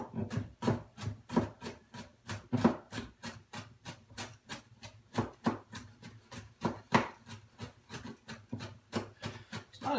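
A knife finely chopping firm Brussels sprouts on a cutting board, a steady rapid run of crisp, evenly spaced chops close up with no talking.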